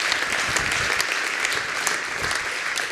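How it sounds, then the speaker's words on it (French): An audience at an evening launch event applauds, a dense, steady wash of many hands clapping continuously at close range with no pause. "Vous pouvez l'applaudir."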